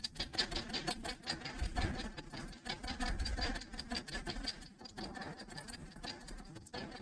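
Sewing machine stitching cloth at a corner during a tailoring lesson on blouse neck stitching, a dense, steady mechanical whir and rattle running continuously and fairly close with no talk.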